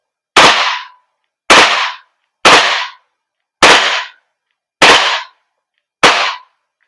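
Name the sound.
WE Glock 35 airsoft gas blowback pistol firing shots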